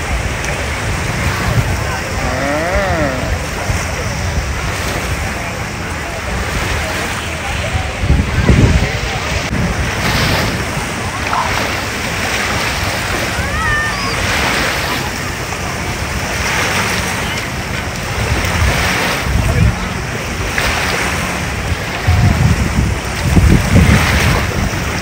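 Steady wind gusting across a lakeside beach at Kings Beach on Lake Tahoe, California, with a continuous broad rush and occasional stronger buffets on the microphone beneath scattered voices and background activity.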